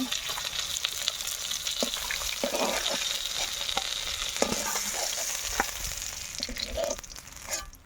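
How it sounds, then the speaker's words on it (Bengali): Bata fish fry in oil in a pan with a steady, crackling sizzle, broken now and then by clinks and scrapes of stirring or turning, all close and even in level. "আমার এই বাকি মাছগুলো ভাজা হয়ে গেছে এখন তুলে নেব"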